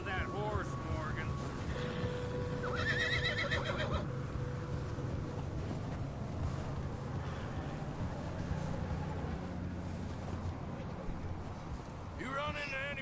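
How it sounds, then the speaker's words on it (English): A horse neighs in Red Dead Redemption 2, with whinnies rising early and again near the end over a steady bed of wind and rain, while people talk in between. "Get a hold of that horse, Morgan."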